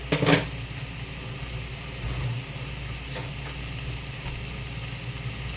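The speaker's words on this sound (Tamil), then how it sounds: "தக்காளி நல்லா அந்த பச்சை வாசனை போகிற அளவுக்கு இதிலே வதக்கலாம்" Tomatoes sautéing in a pan with chili powder, a steady soft sizzle and frying hiss running throughout, with a brief stir or clatter near the start and low background hum.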